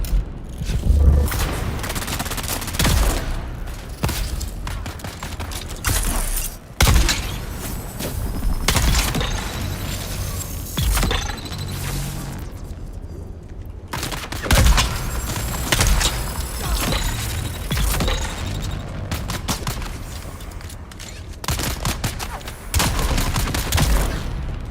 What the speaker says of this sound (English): Who else is shooting us?